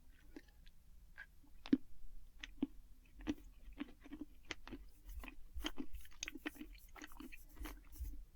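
Someone chews a soft, chewy, powdery candy close up, with quiet irregular wet clicks and squishy bites repeating throughout, faint and intimate with no talking.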